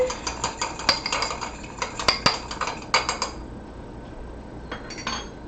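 A utensil whisks egg in a bowl for dredging chicken parmesan, a quick run of sharp metallic clinks and taps against the dish, close and clear, that stops and then returns briefly.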